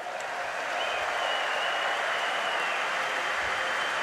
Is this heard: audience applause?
yes